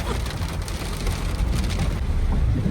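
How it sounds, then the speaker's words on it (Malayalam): Steady heavy rain pours down in a dense, continuous roar with deep rumbling underneath, by a small check dam in the Idukki high ranges, loud and close throughout with no voices. "നല്ല മഴയായി പോയി ഇവിടെ"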